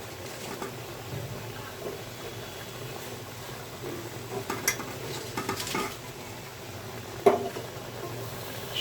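Fresh sweet pumpkin leaves being added to a cooking pot with rui fish head, producing soft rustling, faint patter and a few light clanks against a low kitchen background.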